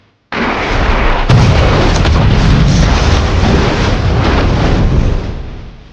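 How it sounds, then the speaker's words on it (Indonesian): A huge explosion as a man blows himself up among a crowd of zombies, a loud sustained roaring blast that fills the scene for several seconds before slowly fading out. "Lalu dengan peledak, ia meledakkan diri bersama para zombie."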